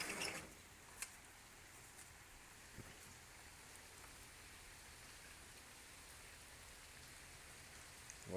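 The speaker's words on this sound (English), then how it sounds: "So it's totally pouring down rain outside." Rain falls steadily outside by a porch, a faint, even patter that continues throughout with a few small knocks and drips standing out.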